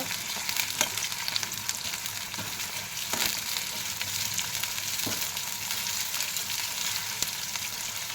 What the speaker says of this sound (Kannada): ಸ್ವಲ್ಪ ಹಸಿಮೆಣಸಿನ್ಕಾಯಿ, ಚೆನ್ನಾಗಿ ಫ್ರೈ ಮಾಡ್ಕೋಬೇಕು